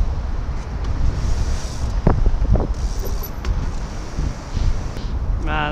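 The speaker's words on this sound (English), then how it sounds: "wind." Wind buffets a wireless microphone outdoors during street trials bike riding, a loud, steady rumbling roar that fills the whole stretch with a few brief knocks over it.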